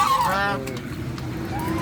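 A goose gives a loud, drawn-out honk at the start, followed by quieter calls and low background murmur.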